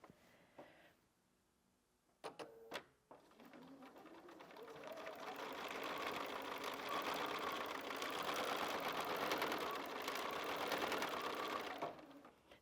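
A sewing machine with a stitch regulator doing free-motion quilting: a few sharp clicks, then the motor whirs up into a steady, fast, close stitching hum that holds for several seconds before easing off.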